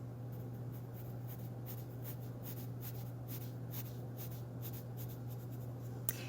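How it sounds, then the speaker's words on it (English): Straight lines drawn while coloring make a soft, steady scratch of repeated short strokes, quiet and close over a faint low hum. "I'm going to go not quite straight up and down for this one. And I'm just drawing straight lines."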